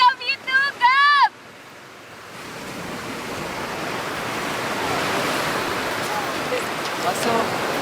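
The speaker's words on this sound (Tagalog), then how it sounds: "Narinig mo yung dagat!" Sea waves heard along a shore, a steady broad wash of surf rising gradually in strength over several seconds, following a short, high-pitched voiced burst at the start.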